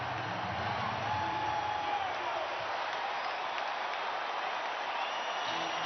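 A basketball arena crowd roars during a timeout in a 1997 Lakers–Hornets game, a steady, broad wash of cheering and applause that holds evenly throughout, heard at a distance under broadcast sound.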